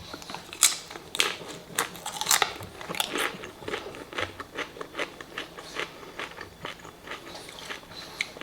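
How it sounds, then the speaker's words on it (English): Crunchy chips dipped in green goddess cabbage salad are bitten and chewed close to the mic, a series of sharp crackling crunches in an irregular rhythm, loudest early then settling into steady chewing. "The chip is crunchy and the cabbage is crunchy. So I get a double crunch."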